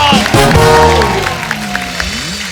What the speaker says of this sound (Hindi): बाबा, देव साहब के लिए तालियां।